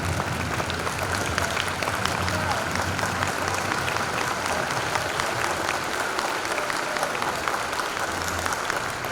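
Audience applause at an education foundation luncheon in Port Arthur, a dense, steady clapping from a large crowd sustained for the whole stretch, even and fairly loud.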